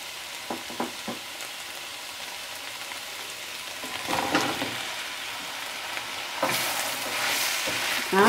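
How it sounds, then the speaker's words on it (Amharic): Tripe and carrots sizzle in a pan for Ethiopian tripa, a steady frying crackle with a few stirring clatters and louder bursts of sizzle midway and near the end, no voices. "ስለዚህ በዚህ ደረጃ ያለ ካሮቱን ጨምራለሁ።"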